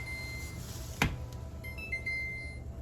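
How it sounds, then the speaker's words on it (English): Kitchen timer beeping while berry jelly is canned: a thin electronic tone sounds briefly, then a sharp click and a few more short high beeps follow in a quiet kitchen. "Timer off."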